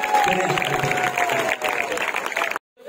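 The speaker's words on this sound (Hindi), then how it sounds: "एक बार जोरदार तालियां बजाएं।" A poetry-gathering audience claps steadily with a voice carrying over the top, then the sound cuts off abruptly into near silence.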